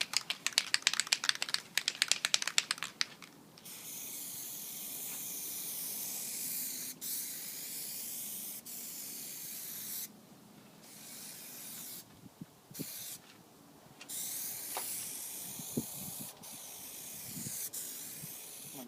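Plasti Dip rubber coating sprays from an aerosol can onto an SRT-4 car, a close, steady hiss coming in long bursts broken by brief pauses.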